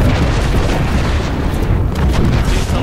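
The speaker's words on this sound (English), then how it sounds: "We got an airstrike on us." An airstrike in a video game, with heavy, close, continuous booming explosions rumbling without a break for about three seconds.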